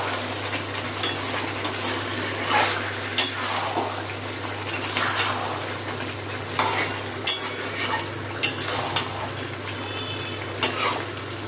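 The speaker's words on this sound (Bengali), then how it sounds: "আর একটুখানি কষাবো" Chicken pieces frying in spice masala in a pan, stirred with repeated scraping strokes over a steady close sizzle, with sharper clinks and scrapes marking the stirring at irregular intervals.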